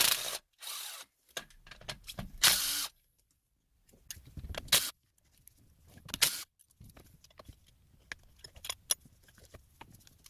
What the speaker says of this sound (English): You're gonna remove these other 3 10mm fasteners.